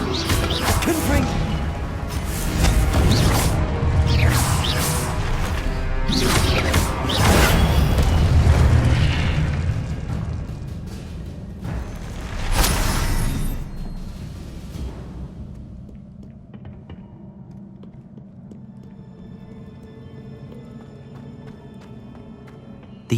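The Confringo fire spell explodes in the video game Hogwarts Legacy: loud booming blasts and rumbling bursts repeat over the first fifteen seconds, then die away to a quiet ambient hum.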